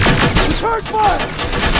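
Gunfire in the video game Terminator Extinction, sustained loud shooting filling the whole moment, with a brief sweeping electronic tone in the middle of the barrage.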